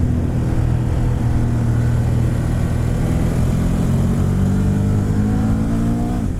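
Ducati Monster 1200 S motorcycle, 2018, ridden fast: a steady, loud engine drone with rising harmonics as it accelerates, wrapped in continuous heavy wind rush, no talking.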